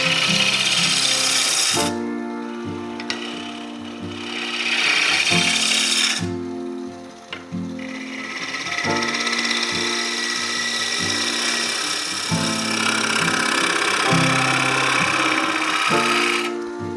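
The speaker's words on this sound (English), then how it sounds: "That was a light scraping cut." Light scraping cuts on a wooden flask spinning on a lathe: a steady hum with rasping, tool-on-wood scraping that comes in several bursts, with short lulls between passes. No voices.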